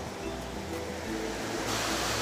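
Steady, full roar of a waterfall at the three-basin cascade near Penedo, Itatiaia, water pouring continuously and loudly, close by with no voices.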